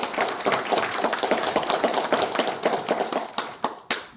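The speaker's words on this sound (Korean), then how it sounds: "뜨거운 손뼉 한번 부탁드리겠습니다." A hall crowd at a Chungcheong regional rally in Cheongju gives dense, continuous hand clapping that thins toward the end into a few scattered, separate claps.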